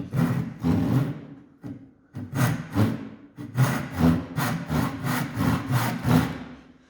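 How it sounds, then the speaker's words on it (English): A tenon saw cuts shallow diagonal grooves, corner to corner, across a wooden handle blank held in a bench vise. Rasping back-and-forth strokes come close and loud, starting in a few separate bursts and then settling into a quick, steady rhythm. "take my tenon saw, and I'm going to saw on these diagonal lines corner to corner"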